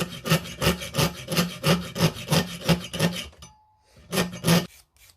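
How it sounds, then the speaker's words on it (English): A hand file works back and forth across a forged metal arrowhead in steady, rasping strokes, about a dozen in a regular rhythm, then a brief pause before two more strokes, close and clear. "I just work back and forth so it's less stress on the material. I'm not using weight to sort of get the file through it."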